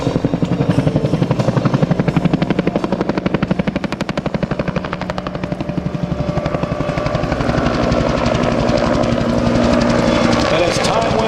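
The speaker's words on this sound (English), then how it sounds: "the Bell Iroquois, the Huey, found itself to be an attack helicopter as well" Bell UH-1 Iroquois Huey helicopter at an air show Vietnam battle reenactment, its rotor thumping loudly and steadily throughout with bursts of simulated gunfire crackling over it, while a commentator talks over the noise.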